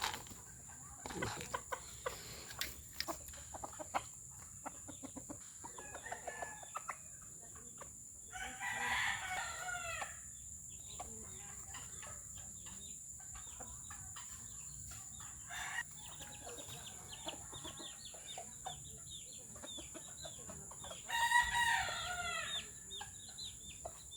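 A rooster crows a few times at close range, each call a rising, wavering cock-a-doodle-doo, with scattered clucks and faint farmyard noise between.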